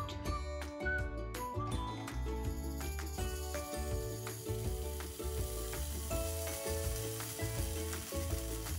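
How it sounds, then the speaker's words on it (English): Paneer searing in olive oil in a pan, a steady close sizzle of frying running throughout over a low background of music. "So some more olive oil in our pan for the paneer now. We're going to just sear it."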